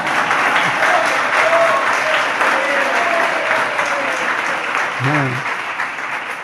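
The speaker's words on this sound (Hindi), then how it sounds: "आप तो कहते हैं ताली तो बजाओ" Audience clapping during a Jain religious discourse by a spiritual teacher, a steady, loud wash of applause throughout, with a short spoken word near the end.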